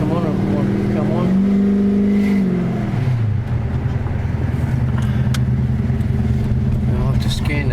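A 1999 Holden R8 Clubsport V8 with a new cam revs up and holds high, then drops back to a lumpy, loping idle, loud and close throughout.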